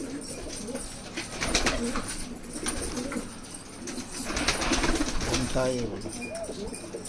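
Pigeons coo softly and repeatedly in a busy enclosure, with rustling and shuffling around them and a voice talking intermittently.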